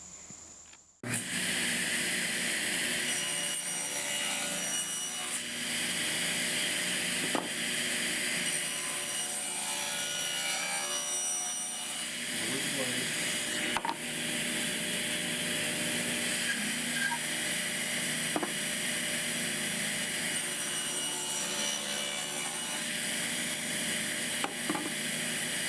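A saw blade cuts box joint slots in wood, a steady whine running throughout with several brief louder bites as the blade passes through the workpiece.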